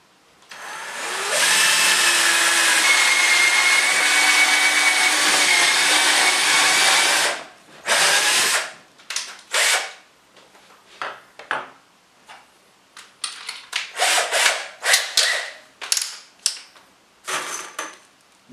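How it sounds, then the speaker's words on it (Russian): A power drill bores holes into a wooden furniture drawer, first a steady, loud whirring run of several seconds, then a string of short bursts, clicks and handling knocks. "Делаем сразу одно отверстие, чтобы нам дальше не держать руками, сверляя последующее отверстие, зажимаем."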